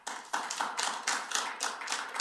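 Faint, fairly regular claps from an audience at a city council meeting, a short, thin round of applause heard from some distance with no talking over it.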